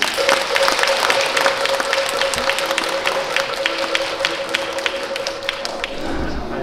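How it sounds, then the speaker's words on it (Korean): Steady applause from a crowd at a Buddhist temple ceremony fills the room, a dense patter of clapping with a faint sustained tone underneath, fading slightly near the end. "큰 박수 부탁드리겠습니다."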